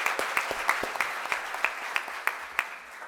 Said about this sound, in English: Yeah, go ahead and applaud.